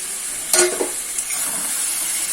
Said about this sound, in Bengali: এখন আমি এখানে ভেজে রাখা মাছগুলো দিয়ে দিচ্ছি